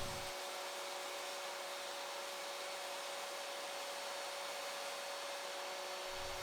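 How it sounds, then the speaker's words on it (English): A table saw bevel-cutting a wooden strip at a 45-degree angle gives a loud, steady whirring roar with a constant motor whine that holds for about six seconds, with no voices. "First, I'll run one edge through the table saw to cut a 45-degree angle."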